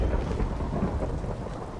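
A thunder rumble from a lightning bolt strike in a Minecraft modpack during rain rolls on as a low, heavy continuous roar, soft and distant, with rain hissing underneath.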